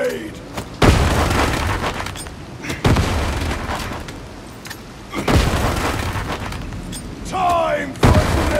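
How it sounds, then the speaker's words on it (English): Grenades go off in the video game Warhammer 40K: Darktide: four heavy booms land about every two to three seconds, each one loud and close with a rumbling tail. Game voices and effects fill the gaps between blasts. "A holy grenade! A purifying grenade!"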